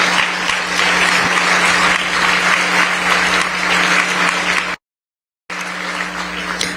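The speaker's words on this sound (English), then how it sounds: "So let's give them all a big round of applause." Sustained applause from the audience at a scholar athlete awards ceremony: a dense, steady wash of clapping with a low hum beneath, broken by a brief dead silence before the clapping resumes.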